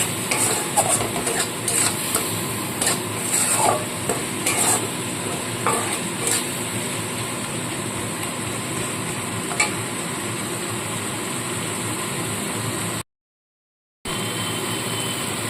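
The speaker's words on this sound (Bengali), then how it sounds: "এবার খুব ভালো করে মশলাটা একটু কষিয়ে নেব" Spice masala fries with a little water and sugar while being stirred, a continuous close hiss and sizzle with spoon scrapes clustered early, then steady frying, a brief silent gap near the end.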